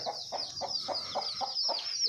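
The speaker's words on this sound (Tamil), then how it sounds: "தாய் கோழி குஞ்சோடு சுற்றிக்கிட்டு இருக்குது" A mother hen clucks in a quick, regular series of soft notes while her chicks cheep continuously in a high, busy chorus close by on a farm.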